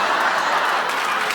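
A studio audience claps in dense, steady applause on a daytime talk show, a continuous even wash of hands with no pauses.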